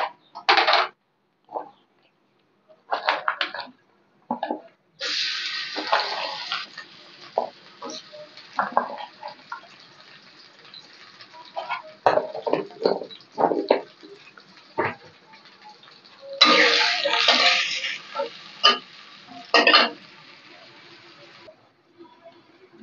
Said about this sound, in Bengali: মশলা ধুয়ে নিব আগে।